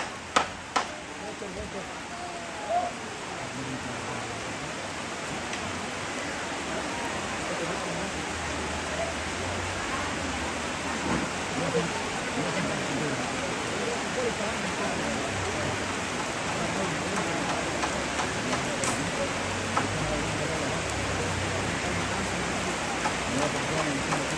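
Rain falls steadily on a leaking tarpaulin, a dense continuous patter with a few sharper drips, while people talk faintly in the background.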